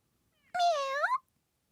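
A single short, clear cat meow, close and alone against silence, rising then falling in pitch over about half a second.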